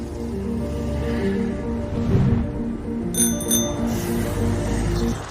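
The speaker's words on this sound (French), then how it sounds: "En ajoutant une musique douce, un effet de souffle et une cloche," Soft music plays throughout with a brief airy whoosh swelling near the middle, followed by a bright bell chiming a few times.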